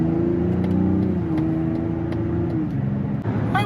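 A 2024 Mazda CX-90 Turbo S Premium Plus engine drones steadily from inside the cabin while accelerating onto a highway, its pitch holding and then easing off as it shifts.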